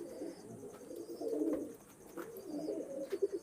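Red-eyed fancy pigeons coo softly nearby in low, throaty bursts, several calls overlapping against a faint background hum.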